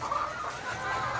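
Chickens clucking in a poultry setting, a short burst of soft, rapid clucks close by with no talking.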